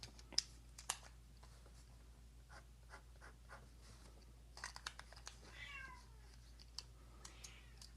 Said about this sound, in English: that's my cat meowing in the background if you hear that